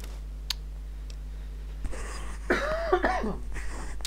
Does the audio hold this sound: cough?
yes